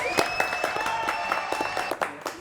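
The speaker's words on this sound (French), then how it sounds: "Applaudissements pour Tassiana." Studio audience applause on a French TV show, a short burst of scattered, uneven claps with a few sharper hits, mixed with a steady background tone.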